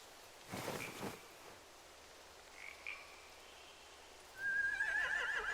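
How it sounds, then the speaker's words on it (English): A video game horse whinnies near the end, loud and wavering, after some soft thuds and snorts against a quiet background. "They have horses."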